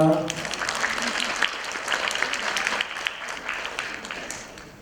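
An audience at a school Korean speaking contest in Thailand applauds to welcome the student performers on stage, a dense, steady clapping that fills the room, with a brief voice at the very start.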